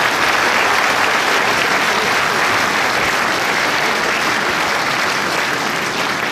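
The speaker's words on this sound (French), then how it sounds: "Ça va vous permettre d'applaudir tous les élus qui m'accompagnent." Loud, sustained applause from a large crowd at a New Year's greetings ceremony, a dense even wash of clapping for the elected officials that holds steady throughout.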